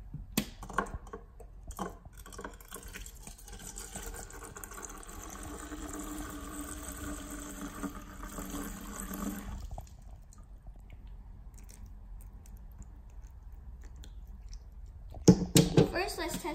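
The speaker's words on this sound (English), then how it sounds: "Let's pour some water in." MixWell sparkling soda water, sourced from California, is poured into a container with a steady, close fizzing rush lasting about nine seconds, then fades to a faint hiss before a few sharp knocks near the end.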